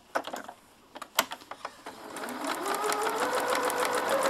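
A sewing machine stitches through a fleece sleeping bag, a few separate needle strokes at first, then running steadily into a continuous close whirring chatter.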